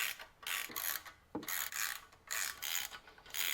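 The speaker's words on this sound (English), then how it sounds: "now we're just gonna gently snug them down." Small bolts on a Honda GCV160 engine valve cover are hand-snugged with a ratchet, giving quiet bursts of repeated clicking and rasping at close range, broken by short pauses.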